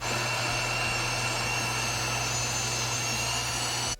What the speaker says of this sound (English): I put it in our little machine and I make it into fresh flour